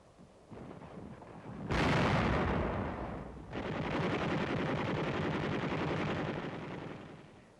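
A 57mm gun fires in 1945 wartime newsreel combat footage near a fortified 17th-century chateau: two heavy booming blasts a couple of seconds apart, each trailing into a long rumbling roar.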